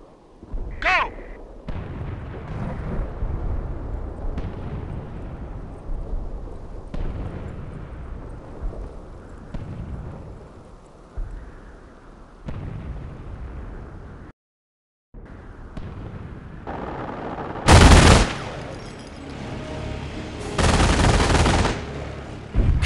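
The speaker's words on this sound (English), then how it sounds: "Start under enemy fire!" Gunfire and artillery from the World War II strategy game Company of Heroes at the Falaise Pocket, with a continuous rumble of battle and booming blasts, and a couple of loud, sharp bursts near the end.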